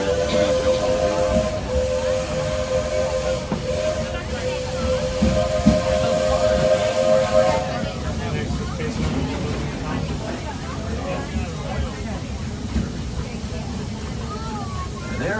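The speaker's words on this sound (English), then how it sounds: "There are some who say that this steam train is a little old-fashioned, but for me, it's the only way to travel." Steam locomotive of the Magic Kingdom Railroad at Walt Disney World running steadily, with a sustained whistle tone over a continuous rumbling, hissing chuff, close and loud throughout, with voices faintly mixed in.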